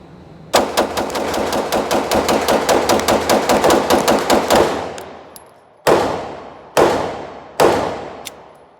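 A freshly built 80% Glock 17 pistol fires a rapid string of about twenty sharp, loud shots outdoors, then a few spaced single shots, each echoing away, with no talking.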